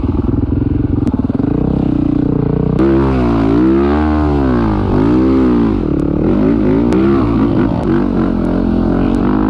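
A motorcycle is ridden on its rear wheel in a wheelie, its engine loud and close, with revs swooping up and down in pitch continuously, and a few sharp clicks.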